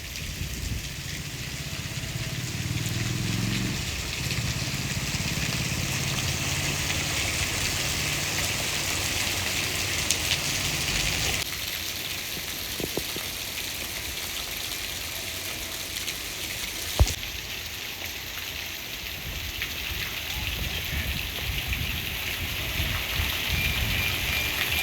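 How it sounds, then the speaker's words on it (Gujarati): Steady rain falls throughout, a continuous broadband hiss with a low rumble in the background and one brief sharp knock partway through. "હજી વરસાદ પડવાનું ચાલુ થયું"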